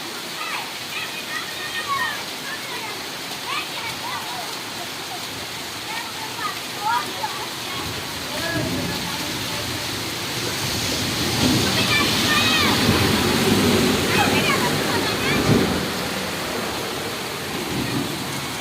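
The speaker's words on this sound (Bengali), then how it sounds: "শুধু বৃষ্টি আর বৃষ্টি" Heavy rain pours down in the street as children run home from school through the water, a dense steady roar that swells louder midway, with voices talking and calling over it.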